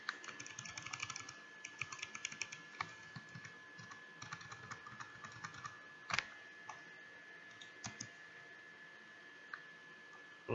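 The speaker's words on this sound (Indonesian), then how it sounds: "Saya ketik ulang." Rapid, irregular typing on a computer keyboard, close by, with clusters of crisp key clicks and a few heavier strokes while entering a regular expression into a Google Form; no talking.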